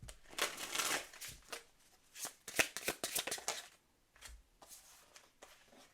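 Angel oracle cards being shuffled by hand, a quick run of crisp riffling bursts with brief pauses, close and fairly loud, no voices.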